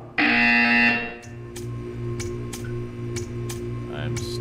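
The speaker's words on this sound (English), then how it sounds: "You will hear a buzzer." A buzzer in the game Portal 2 sounds with a loud, harsh blast lasting about a second, followed by a steady low hum and a series of regular clicking ticks.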